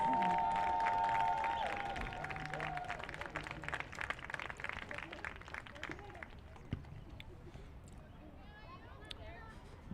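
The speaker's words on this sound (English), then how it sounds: "Let's give them a round of applause." Spectators at a high school girls' soccer playoff game applaud the ball kids with scattered clapping and light cheering heard from a distance. Voices murmur throughout, and the sound gradually thins toward the end.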